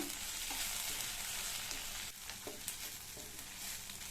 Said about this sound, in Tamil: மிளகாய் புளியெல்லாம் ஏற்கனவே வதக்கின வெங்காயத்தோட நல்லா 1 நிமிஷத்துக்கு சேர்ந்து வதங்கட்டும்